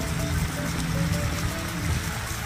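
Water pours and splashes steadily at an amusement park water ride at Playland Park, Westchester County, a continuous rushing trickle and gush.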